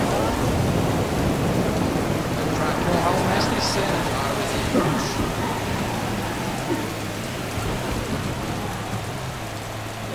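Steady rain hiss fills a kart racing video game set at a Brazilian track, with a low engine drone underneath and someone talking excitedly over it throughout.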